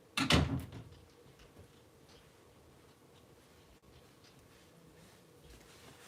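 A door closes with a single sharp thud at the start, followed by a quiet room with faint background noise.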